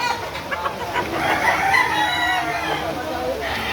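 Roosters crow and chickens cluck at a busy outdoor chicken market in Lipa City, Batangas, on a rainy Saturday, a steady din of fowl calls under low crowd murmur.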